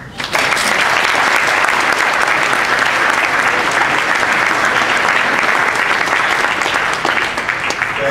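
Sustained applause from a conference audience welcoming a speaker to the stage, dense, even clapping at full strength that holds throughout and tapers slightly near the end.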